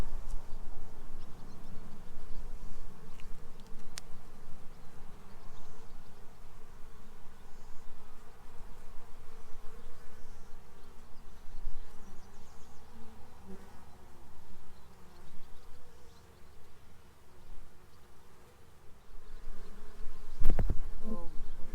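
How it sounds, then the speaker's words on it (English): A steady, dense buzzing of many honeybees around a hive fills the whole stretch, droning continuously at close range with no talking. "There's a lot of bees on this one."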